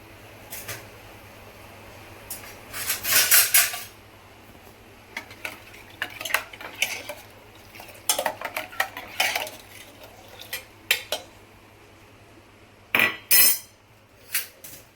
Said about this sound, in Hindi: और ये दाल को चलाकर और इसमें लगा दूँगी ढक्कन कुकर का।